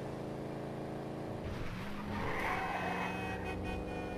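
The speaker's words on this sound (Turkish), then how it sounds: "Sanırım bir arabanın kaza yapmasına sebep olduk." A car in the video game GTA V skids with a sustained tire squeal over steady engine noise, loud and close, lasting a few seconds as it loses control and crashes.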